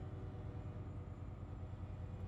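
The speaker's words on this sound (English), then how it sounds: "I hear a train." A low, steady rumble with rhythmic clacking of a train rolling along somewhere in the distance in American Truck Simulator, continuous throughout with no voices.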